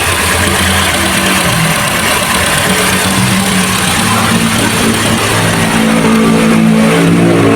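A GAC GN6 with a 270T engine runs steadily after an oil change, a loud, continuous close-up engine drone that holds an even idle throughout.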